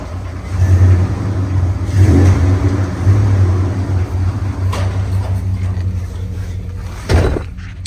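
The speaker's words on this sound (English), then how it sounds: "Give it a little rev." A low truck engine rumbles steadily nearby in a garage, rising in a few revs, with a couple of sharp knocks or clatters over it.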